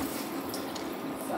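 Tap water runs steadily into a pot on a kitchen sink, a continuous hissing splash with faint background voices.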